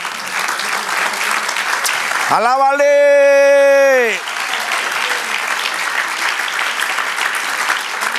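A church congregation claps and applauds in praise during a Spanish-language sermon, with broad, sustained applause that runs throughout and keeps going under a voice that shouts out over the crowd.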